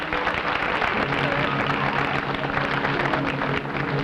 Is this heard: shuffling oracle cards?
no